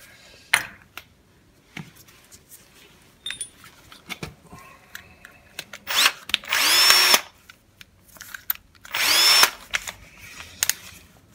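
Power drill boring a hole into a metal machine frame during fitting of a SINO three-axis digital readout, two loud bursts of high whining drilling separated by quieter clicks and handling noises in a workshop.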